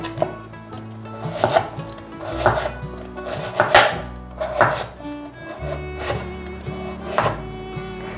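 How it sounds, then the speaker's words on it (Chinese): A knife chopping carrot on a cutting board in a vegan home kitchen, about eight firm, evenly spaced thuds up close, over soft background music. "接着把红萝卜切成条状， 把红萝卜切成小丁"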